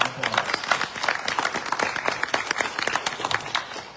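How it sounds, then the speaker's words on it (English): An audience at a school board candidates forum claps in a brisk burst of applause, the individual claps crisp and close, lasting a few seconds. "Can we give these candidates a round of applause?"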